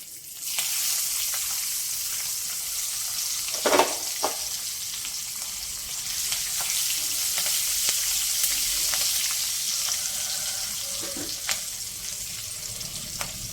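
Thinly sliced garlic and green chillies frying in hot oil, a loud, dense, steady sizzle with a couple of stirring knocks near the start.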